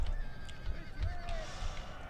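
Cuirassier cavalry horses whinny in Napoleon Total War, a short neigh rising over a low rumbling battle din, moderately loud.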